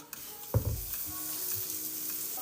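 Chorizo waffle batter poured into a hot waffle iron, giving a soft sudden sizzle that settles into a faint, steady frying hiss, quiet and close.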